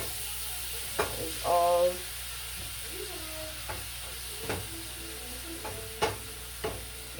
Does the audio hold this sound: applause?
no